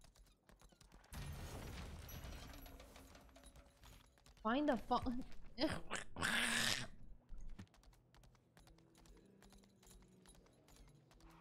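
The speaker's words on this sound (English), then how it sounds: "Just riding a horse indoors." Hooves clop in quick rhythm with a brief horse whinny, while a person speaks briefly over the game sounds; later it quiets to scattered clicks.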